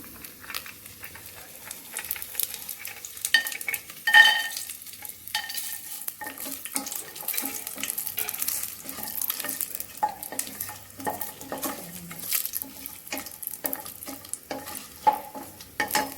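Cashew nuts frying in a pan, with a steady sizzle broken by repeated stirring scrapes and clinks, close and moderately loud, while someone cooks pulao from ordinary rice.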